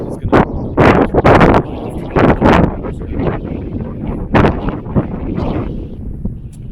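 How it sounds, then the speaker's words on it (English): Outdoor wind in Scotland buffets a microphone in heavy gusts, loud bursts of rushing noise coming and going over a steady breezy background. "It is quite breezy here."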